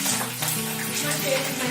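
Curry leaves hit a hot pan of oil for a cauliflower sabzi, giving a steady, even sizzle and crackle that holds at a moderate level throughout.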